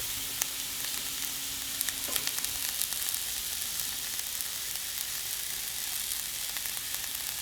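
Onions and fresh chickpeas fry in a pan with a steady, close sizzle and occasional light crackles and stirring clicks, with no voices.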